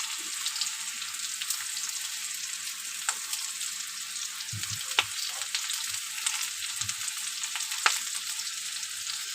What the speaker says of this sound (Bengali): পেঁয়াজ রসুন আদা টমেটো পেস্ট করে নিয়েছি জিরের গুঁড়ো লঙ্কার গুঁড়ো হলুদ গুঁড়ো পরিমাণ মতো নিয়ে নিয়েছি চলো এসবটা ভেজে নিই